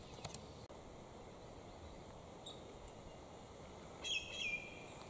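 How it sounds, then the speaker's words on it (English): Near the end, a bird known as a squeaker calls from a branch in the Western Australian bush at Boyagin, giving a brief thin squeaky phrase that sits faintly over a steady low hiss of ambient noise. "where you can't see it, is the bird making that noise. And we call them squeakers."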